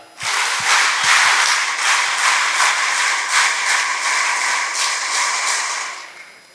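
A large gathering claps to welcome a guest at a convention in the Amruthavarshini hall at Shri Kshetra Dharmasthala, dense and loud applause lasting about six seconds before tapering off.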